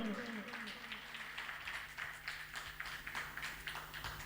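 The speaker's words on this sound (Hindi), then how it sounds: "आप लोग ताली तो बजाइए" An audience at a photographers' association anniversary celebration in Sasaram gives scattered, rather faint applause, with talk and a steady hum underneath.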